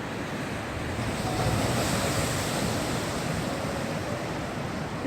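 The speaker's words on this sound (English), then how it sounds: "Look at those waves." Waves surge and break on Lake Superior in April under gusting wind that buffets the microphone, making a dense, steady roar of surf that swells a little midway, with no talk.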